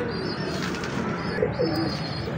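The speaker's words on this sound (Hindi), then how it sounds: "ये माशाल्लाह उस्ताद मियाँ नज़ीर वाला टैडी कबूतर है" Soft teddy pigeon cooing under a steady background hum, with a few low warbling coos standing out briefly near the end.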